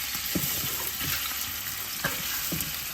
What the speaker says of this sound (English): Add the meat to the pot. Heat it up with a little grease.